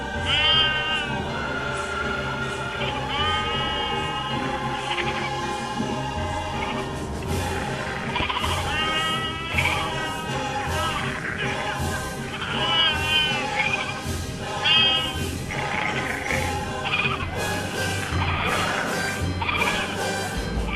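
A two-legged goat bleats over and over, loud and close, in wavering, nasal cries that come in quick succession for about twenty seconds with no talk.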